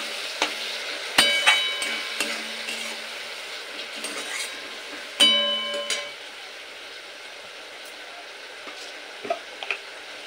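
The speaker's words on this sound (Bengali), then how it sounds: "আর সামান্য একটু জল দিয়ে মশলাটা আবারও খুব ভালোভাবে কষিয়ে নেব।" Spice paste for a Bengali lalmi bori jhol sizzling and frying in a pan, a soft steady crackle with a few louder stirring scrapes and clinks, no voices.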